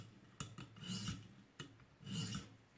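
A recurve knife blade drawn across a ViperSharp sharpener stone makes two raspy grinding strokes, each opening with a sharp scrape and swelling into a gritty rub, close and quiet with no talk.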